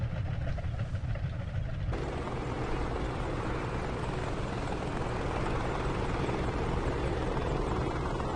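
AH-64 Apache attack helicopter in DCS World with a damaged main rotor, giving a steady, loud rotor and engine drone that thickens after the first two seconds and then holds constant with no voices.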